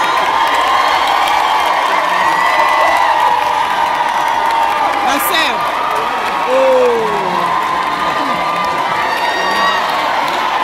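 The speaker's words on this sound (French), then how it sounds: "Applaudissements, mesdames et messieurs" A big crowd cheers and whoops for Cécile Chouka, a steady roar of voices with scattered clapping and a few rising shouts, close and loud throughout.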